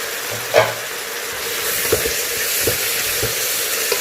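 Tomatoes fry with salt in a pan for country chicken biryani, giving a constant, hissing sizzle with scattered soft clacks and stirring scrapes against the pan.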